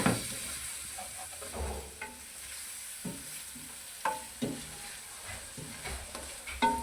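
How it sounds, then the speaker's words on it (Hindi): Arbi (taro root) curry being stirred in a pan just after lemon juice goes in, with a soft steady sizzle and intermittent scraping clinks of the spoon against the pan, close and fairly quiet. "अब करेंगे हम एक दफ़ा इसको मिक्स"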